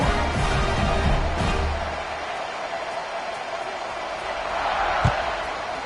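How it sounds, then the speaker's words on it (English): Stadium crowd at a college football game against Mississippi State, a steady broad roar that swells and dips across the whole stretch, with faint talk underneath and a brief thump near the end. "this crowd is buzzing after that last score"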